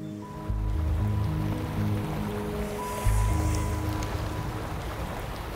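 Polluted wastewater flows toward farm fields in India, a continuous rushing wash of moderate loudness with a brief surge partway through and a faint low tonal hum underneath, with no voices.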